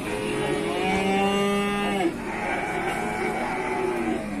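Jabres cattle at a livestock sale gives one long, loud moo that falls at the end, close by, over a murmuring crowd and background voices.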